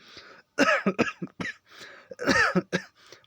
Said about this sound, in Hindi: मैंने नकली खांसी निकालने का प्रयास किया तो सच में खांसी आ गई